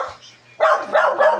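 A dog in a flooded neighborhood gives three quick, fairly close barks in succession over a faint low background hum.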